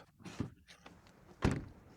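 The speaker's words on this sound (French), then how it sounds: "c'est contre le bruit, le son de fermeture des portes" The door of a Smart #5 Brabus, which has frameless windows, shuts with one fairly quiet, solid thud near the end, after a softer clunk earlier; otherwise the surroundings are calm.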